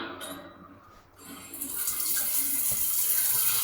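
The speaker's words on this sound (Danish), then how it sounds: "der har vi en bruser her, hvor man lige skal hive op i den her" At the rinse corner of an indoor dog swimming pool, a shower head is pulled and water starts, with a quiet room hum first and then a steady bright hiss of spray.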